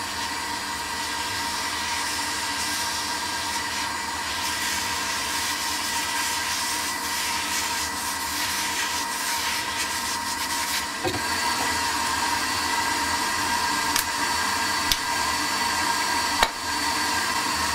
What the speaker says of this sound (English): Let me turn on my heater.